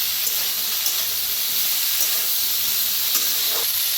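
Eggplant and chickpeas roast in an oiled pan with a steady, loud sizzle and hiss throughout, with occasional faint stirring scrapes.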